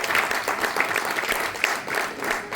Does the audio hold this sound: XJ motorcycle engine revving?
no